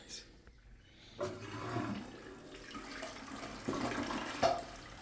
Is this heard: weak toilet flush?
yes